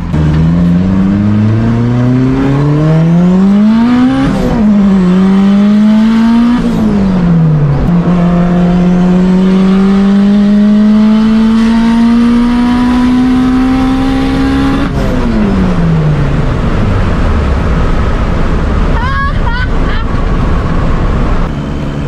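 A turbocharged car running 11 PSI of boost revs hard and climbs through several gear changes, its pitch rising, dropping and rising again, loud and close, with a faint voice underneath.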